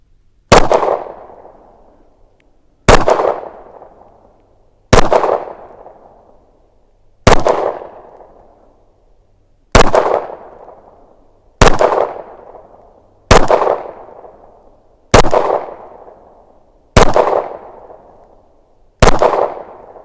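Nine sharp 9mm shots from a Canik TP9DA pistol, fired at 20 yards with hollow points, crack out one at a time at a slow steady pace, each loud report trailing off before the next.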